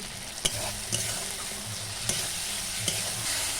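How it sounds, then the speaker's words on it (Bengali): Turmeric, chili powder and other spices sauté in a pan under an even, close sizzle, with four or five distinct spatula knocks on the pan spaced through it and no talking. "একটু কষিয়ে নেব হলুদ সব মশলা একসঙ্গে"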